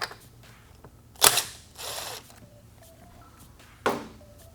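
A nut being worked loose from the rear fender of a Kawasaki KLX250 motorcycle during a fender eliminator install, with a few sharp metallic clicks and ratcheting bursts close by, separated by quiet pauses.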